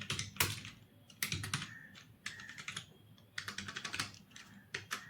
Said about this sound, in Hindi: आपको टाइपिंग करके दिखाता हूं